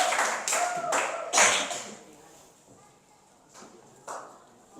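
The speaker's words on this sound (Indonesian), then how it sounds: "Tepuk tangan dulu untuk Clara." Children in a classroom clap their hands in brief, scattered bursts during a primary maths lesson, fairly close, with a teacher's voice speaking between the claps and quieter gaps as the clapping fades.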